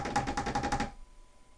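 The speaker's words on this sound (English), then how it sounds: "Fingernails tapping a wooden surface." Rapid, steady tapping of fingernails drumming on a wooden surface, about eight quick beats in under a second, close and moderately loud, then stopping into quiet.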